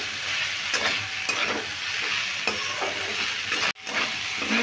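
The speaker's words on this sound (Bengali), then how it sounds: "হলুদ আর নুন দিয়েও আমি একটু ভালো করে নেড়ে নেবো।" Amla pickle with turmeric and salt being stirred in a hot pan, a constant bright sizzle with a few soft scraping strokes of the spoon and one brief break; close and alone.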